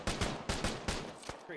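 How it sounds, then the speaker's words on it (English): Rapid bursts of gunfire in a tactical military shooter game, several sharp close shots in an uneven rhythm over about a second and a half, loud and alone. "Fine, I'm shooting up."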